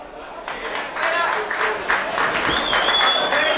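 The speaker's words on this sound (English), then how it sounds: "Better round of applause than that" A crowd applauds steadily, the clapping dense and continuous throughout, with a faint whistle-like tone rising near the end.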